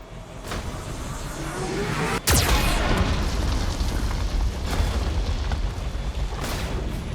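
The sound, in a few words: Geth cannon firing in the video game Mass Effect 2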